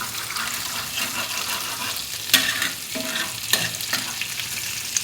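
An egg fries in a pan of hot oil with heated spices, a steady close sizzle running throughout, with a few sharper scraping bursts where it is stirred.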